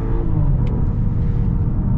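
A 2024 BMW X5 accelerating hard, its engine a loud, steady low rumble heard from inside the cabin, with no talk.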